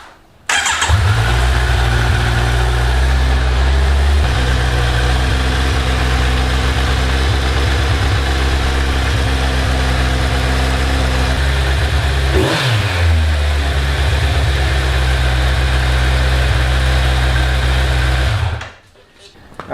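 Close, loud Kawasaki Z900 motorcycle idling through a hot Akrapovic clone exhaust with a steady low throb, a brief rev around the middle, then cutting off near the end.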